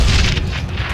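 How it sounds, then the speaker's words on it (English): Grenade explosion in the shooter game Call of Juarez: The Cartel, a loud, dense booming blast that fills the whole second with rumbling low-end energy and crackling debris, no voices. "I threw the grenade."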